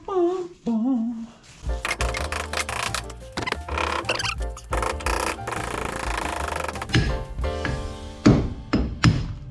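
Metal spindle being hammered out of the front beam of a 1952 VW Barndoor ambulance, a run of sharp close knocks and thunks, irregular then quickening, with a brief hummed voice at the start.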